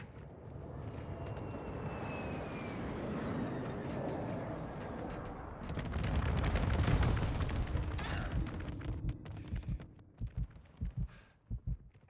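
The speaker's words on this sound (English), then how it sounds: "Inbound for bombing run." Bombing run in Call of Duty Modern Warfare II: a jet drones overhead, then deep rumbling explosions swell and roll loudly before fading into scattered thuds and distant blasts.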